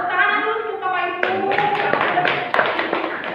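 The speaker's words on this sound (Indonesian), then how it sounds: "tepuk tangan dulu untuk Bapak Ibu" An audience at a school teachers' workshop on positive culture breaks into quick applause right after a voice speaks, clapping loudly with voices mixed in.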